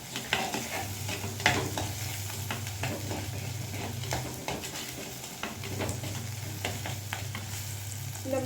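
Onions and small shallows sauté in a pan with a little rock salt for a lentil dumpling curry, crackling and sizzling steadily under frequent stirring and spoon scrapes, with no talking.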